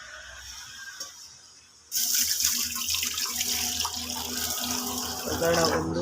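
Water pours steadily into a cooking pot as part of making soft chapati dough with salt, starting abruptly and continuing loud and close as an unbroken splashing stream.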